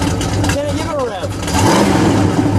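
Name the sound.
1969 Plymouth Road Runner A12 engine revving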